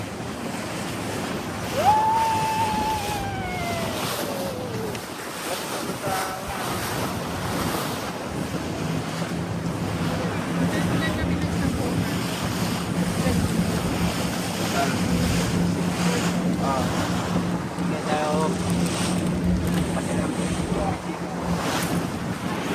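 Choppy sea waves slap and rush around a boat on the water in Dubai Marina, a steady, loud broadband wash with wind buffeting the microphone, and a brief rising whistle-like tone early on.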